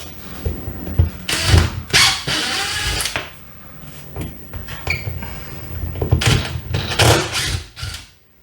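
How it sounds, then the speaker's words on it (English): A power drill backs drywall screws out of framing during a demolition job, with several loud whirring bursts separated by short pauses and some handling clatter, close up with no talk. "I'm just going to go ahead and pull the remaining screws all out of my way."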